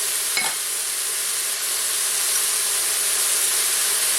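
Shallots browning alongside pork in a pan give a steady, close sizzle that runs evenly throughout, with no voices.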